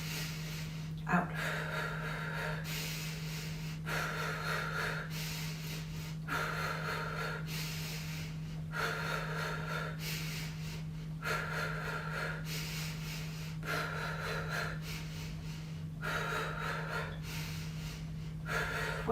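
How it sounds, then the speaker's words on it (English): A chair yoga class with rapid, rhythmic breathing: forceful breaths repeat about once a second, steady and close, over a constant low hum. "we're going to breathe more rapidly as we do so"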